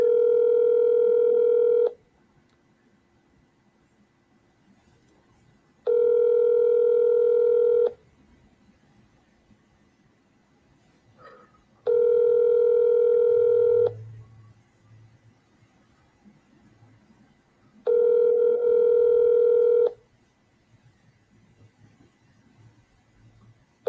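Telephone dialing during a phone call: four loud, steady tone bursts about two seconds long, spaced evenly with quiet gaps between them and faint line noise underneath.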